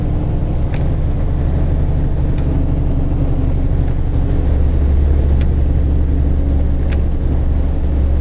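A car drives along a road toward Interstate 81 north, its steady engine rumble and tire roar continuous and close throughout with no talking.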